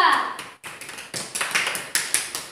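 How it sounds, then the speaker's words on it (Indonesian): Applause for a student group in a classroom: a few scattered hand claps come first, then a lively, loud run of clapping, close by with a voice briefly over it. "tepuk tangan juga untuk kelompok 2"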